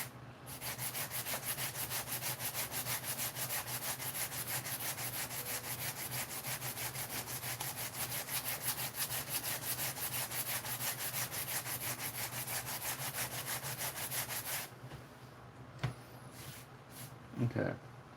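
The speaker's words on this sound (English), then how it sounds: "You can sand it" Steady, continuous sanding of cured Milliput epoxy putty on a Pokémon print, an even gritty rubbing that runs for about fifteen seconds and then stops, followed by a few light knocks.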